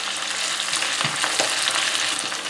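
Browned chicken pieces and julienned onion fry in a pan with a bright, close sizzle and crackle, broken by a few stirring scrapes.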